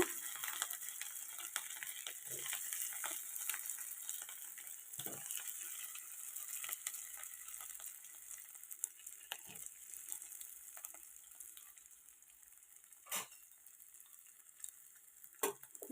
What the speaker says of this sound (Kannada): ಎಣ್ಣೆ ಕಾದಿದೆ ಈಗ ಕಟ್ ಮಾಡ್ತಿರೋ ಇಡ್ಲಿನ ಇದ್ರೊಳಗೆ ಹಾಕಬೇಕು